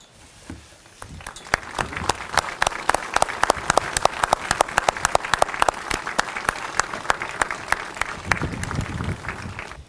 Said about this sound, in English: Please join me in a round of applause for all those who continue to safeguard our history